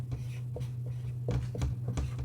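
Marker or chalk writing out the water potential formula on a board, short scratchy strokes in an irregular rhythm over a steady low hum, fairly close.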